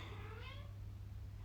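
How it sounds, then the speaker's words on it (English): A pet cat meowing indoors, a single drawn-out meow at the start that fades out, faint over a low steady hum in a quiet room. "Can you hear my cat?"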